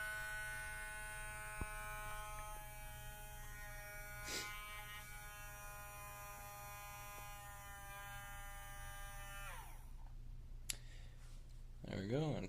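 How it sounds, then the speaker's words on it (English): A small electric fan motor on an Arduino temperature-controlled setup whirs steadily with a faint hum, then spins down and cuts off near the end, followed by a few light clicks. "And the motor kicks in."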